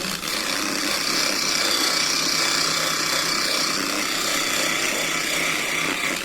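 Steady, continuous abrasive scraping of silicon carbide sandpaper against marble, loud and close, holding an even gritty hiss throughout without pauses.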